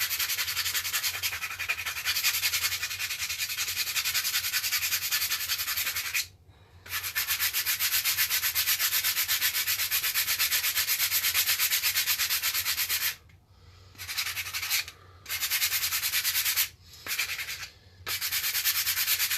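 A plastic Nerf blaster is sanded by hand in long, steady back-and-forth strokes, a close, dry rasping broken by a few brief pauses.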